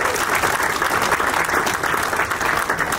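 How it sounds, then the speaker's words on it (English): A crowd at a pipe show presentation in Chicago applauds the new show director, Ron Pecorini, with steady, full clapping throughout, loud and close. "Round of applause for Ron."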